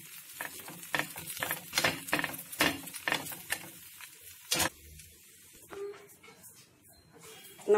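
Rava roti (adai) cooks on a pan over a medium flame, with a soft, quiet sizzle and a run of light clicking taps and scrapes from a spatula, close up and without talking.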